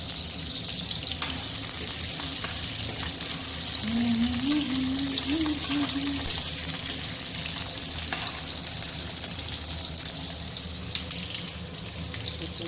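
Onions frying in a pan while pork is cooked: a steady, close hiss of sizzling oil throughout, with a brief hummed tune rising over it partway through.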